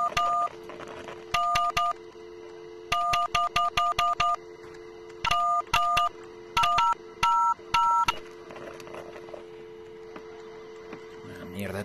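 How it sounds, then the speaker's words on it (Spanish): Telephone keypad dialing in the video game Job Simulator: bursts of crisp DTMF tones pressed in quick clusters of single and rapid repeated beeps, close and clear over a steady low hum. "Mierda de teléfono que no funciona."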